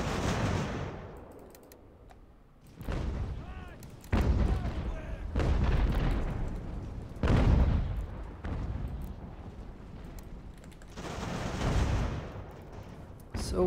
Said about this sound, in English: It seems like they got mortars.